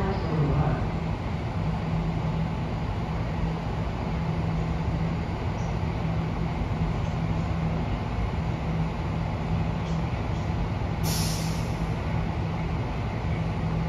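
A BART Green Line train stands at Warm Springs station in South Fremont, giving a constant low rumble and hum of motors and ventilation, with a brief hiss near the end.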